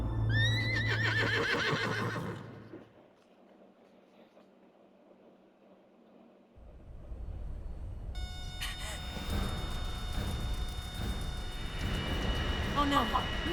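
Horse whinny inside the video game Metal Gear Solid Delta: Snake Eater, a harmonic call at the start over game music, then a quiet stretch before louder rumbling game sound and music take over.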